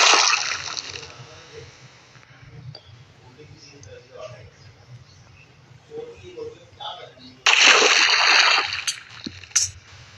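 Water splashes in Minecraft, two loud bursts of sloshing, one at the start and one later, with quieter stretches between where a voice talks softly in the background.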